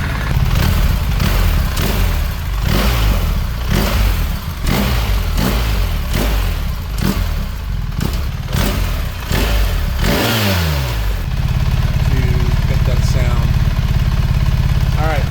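BMW R1300 GS motorcycle with stock exhaust, engine heard close with repeated throttle blips and revs before settling into a steady loud idle, with someone speaking over it.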